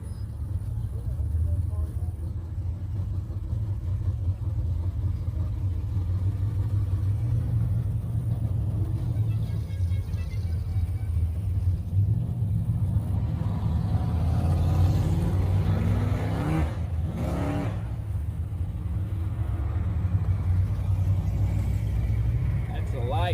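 Cars and trucks, including an old jacked-up C10, pull out of a church car show parking lot, a steady low engine rumble near the recorder with a louder pass midway, while people talk over it.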